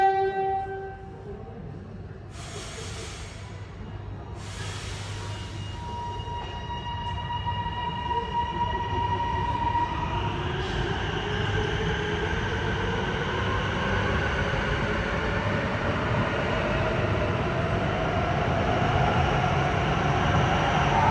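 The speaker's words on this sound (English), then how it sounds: "this train that we just got off is about to leave" A Melbourne Metro train pulls out of a station. A few horn tones sound first, then a deep rumble and rising whine build steadily and stay loud as it departs.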